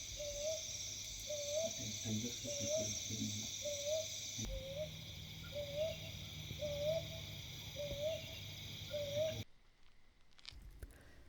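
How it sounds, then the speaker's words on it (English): An owl hoots at night near Nagarahole and Kabini, a steady series of short, evenly spaced calls carrying over a constant insect drone before the sound cuts away. "I heard this bird call, which looked like that of an owl"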